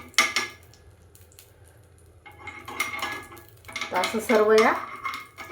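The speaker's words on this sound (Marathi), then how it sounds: "आप्पे पात्राला तूप लावून घ्यायचं" Metal spoon scraping and clinking against a cast appe pan while greasing its cups with ghee, close and sharp, with scattered taps and a longer scraping run near the end, brief talk early on.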